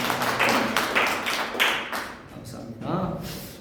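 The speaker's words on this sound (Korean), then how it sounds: "다시 한번 박수로 환영하시겠습니다." A church congregation claps in a brief burst of applause, a scattered patter of hands close by that fades after a few seconds, with voices murmuring underneath.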